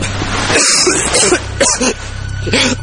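A few harsh coughs and throat-clearing bursts, close and loud, spaced out over a couple of seconds.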